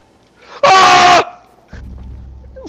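A player in Garry's Mod lets out a loud, strained scream as a battle cry, lasting about half a second, surrounded by quiet game ambience and a low hum.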